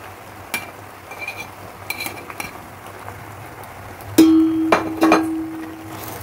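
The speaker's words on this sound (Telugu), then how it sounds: "తగ్గించి ఈ క్యారెట్ని ఈ విధంగా కలిపేసుకున్నాం" Carrots being stirred into wheat-flour macaroni pasta in a pan, with scattered utensil clinks and scrapes followed by a louder metallic scrape and clatter near the end, close and alone.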